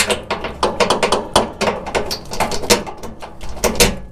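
Bolt being started into a rear lower control arm bushing with a ratchet, giving rapid close clicking and mechanical rattling in uneven bursts throughout.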